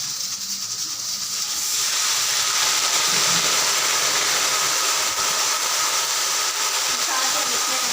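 Loud hissing sizzle bursts up after a quieter start and holds steady as water is added to frying onions in a hot pan.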